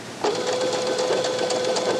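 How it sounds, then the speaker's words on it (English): A Baby Lock Soprano sewing machine starts up and runs at a steady, close mechanical whir with a rapid rhythmic stitching chatter as it performs its automatic back stitch. "it stitches back three stitches, forward three stitches, and stops"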